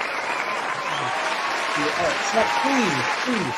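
Enthusiastic studio-show crowd applause, dense steady clapping with whoops mixed in, loud and continuous, with a few short vocal sounds riding over it.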